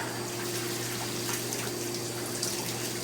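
Running shower water pours steadily with a broad, close hiss and a faint underlying hum, continuous without breaks.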